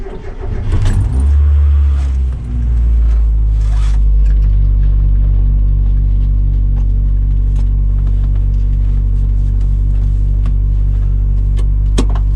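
A 1990s car idles and pulls off, a steady low engine rumble after some handling noise and rattles near the start, with occasional small clicks inside the cabin.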